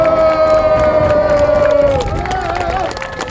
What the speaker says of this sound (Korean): 이 자랑스러운 서구 주민들을 향해서 고마움의 큰 박수 보내주시기 바랍니다